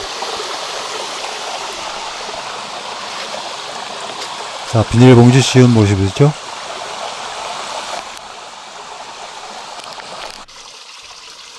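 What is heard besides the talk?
mountain valley stream flowing water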